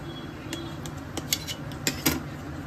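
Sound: knife cutting paneer into large pieces

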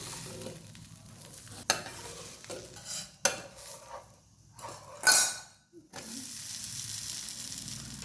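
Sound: dosa being turned and roasted on a hot pan

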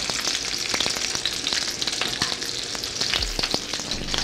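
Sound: burger meat patty frying in pan

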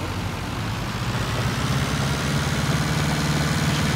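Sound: tractor engine labouring while ploughing

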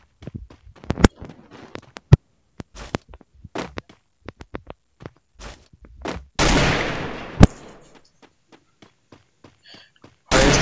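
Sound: gunfire in the Free Fire video game

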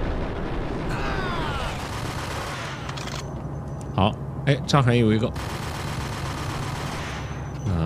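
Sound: submachine gun fire in video game Max Payne

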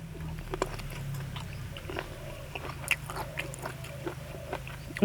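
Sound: biting and chewing crunchy food

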